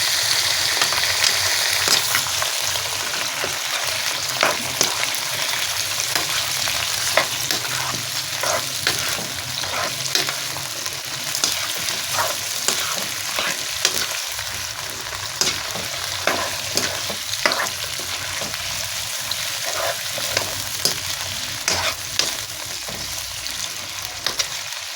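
Chicken frying in a pot for white pulao yakhni while being stirred, a continuous loud sizzle broken by frequent scraping and clacking stirs throughout, with no voices.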